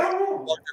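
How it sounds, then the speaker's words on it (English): A dog in the background of a home podcast recording gives a brief drawn-out bark or howl, heard close and fairly loud for under a second. "sorry about my dog."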